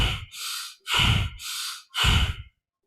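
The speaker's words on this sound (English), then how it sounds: "So I breathe in deep, and breathing out should be a little quick, like that." A slow, deep inhale followed by a shorter, quicker exhale during a group breathwork session, repeated in close, clear breaths with no talking.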